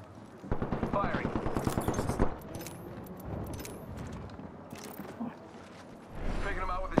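A fast, loud burst of automatic gunfire in the battle royale game Apex Legends rattles for nearly two seconds, followed by quieter mechanical clicks and then another sustained volley.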